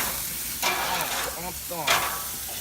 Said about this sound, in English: Let me get the chops flipped.